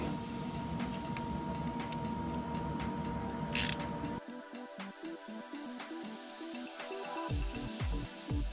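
Ratchet tightening valve cover bolts on a Nissan engine, a series of quick clicking strokes close up, faint and repeated in bursts.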